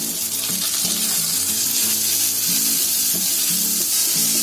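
Tomatoes fry in masala in a pan, a continuous loud sizzle up close, punctuated by repeated low knocks and scrapes of a spoon stirring against the pan.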